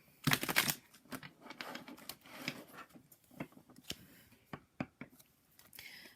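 Tarot cards being shuffled by hand, giving a run of soft papery riffles and crisp taps that come in irregular bursts, close up and fairly quiet, with no talking.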